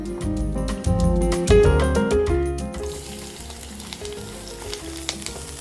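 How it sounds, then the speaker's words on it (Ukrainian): Onion and garlic fry loudly in a pan for shakshuka, a dense close sizzle with clinks of a spatula stirring during the first half, then settling into a quieter, steady crackle. "спочатку ми обсмажуємо цибульку та чесник"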